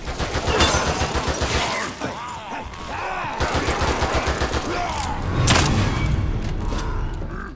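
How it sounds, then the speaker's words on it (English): An explosive bolt is fired and bursts in The Evil Within 2, giving a loud, dense boom and rumble over continuous game noise, with a second heavy impact later. "Wrong bolt! I shot the explosive one."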